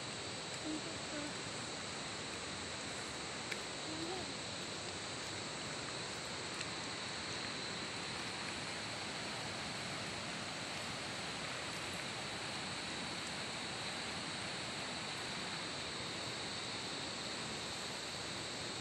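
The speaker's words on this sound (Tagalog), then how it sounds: "nandito na po ako sa malapitan sa ilog. Napakalaking ilog po at napakalinaw." A steady, unbroken rush of a large, clear river flowing in the Philippines fills the scene, dense and even throughout with no other sounds standing out.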